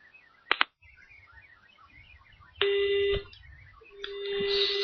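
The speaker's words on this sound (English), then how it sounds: "Well, I'll just have to phone back again." Telephone line tones on a call to a climate change campaign group: two quick clicks, then two long, steady electronic tones separated by a pause, close and fairly loud over a faint background hum.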